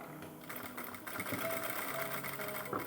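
A sewing machine stitches along the curved neckline edge of a blouse, using a cross-cut bias piece, with a steady continuous mechanical whirr running close and loud throughout.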